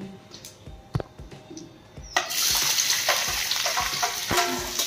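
Cumin seeds hit hot oil with a sudden loud sizzle about halfway through, after a few quiet taps and clinks, then keep frying with a steady crackling hiss to the end.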